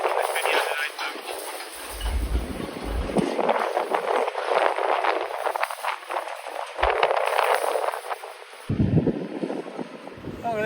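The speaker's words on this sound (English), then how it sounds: "Very windy day, so that's a bit noisy this video today" Strong gusty wind on a very windy day in Blackpool buffets the microphone outdoors, giving a loud, continuous roar that swells and dips for the whole stretch.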